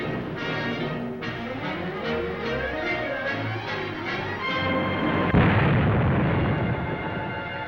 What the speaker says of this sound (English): drove right into that blast